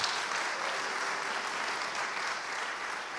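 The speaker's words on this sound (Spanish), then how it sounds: "Denle un aplauso al Señor Jesucristo, hermano." A church congregation applauds during a sermon, a short run of steady, dense clapping from many people at a moderate distance, with no speech.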